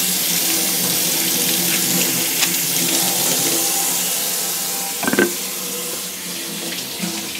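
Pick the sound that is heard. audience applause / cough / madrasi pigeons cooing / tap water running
tap water running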